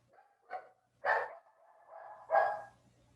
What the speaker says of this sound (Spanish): Hay un perrito por ahí.